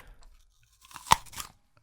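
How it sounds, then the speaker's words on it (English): Close, crunchy chewing of an apple, a few soft bites building to one sharp crisp crunch, then quieter munching, heard alone in a quiet room. "And be like the apple being chewed"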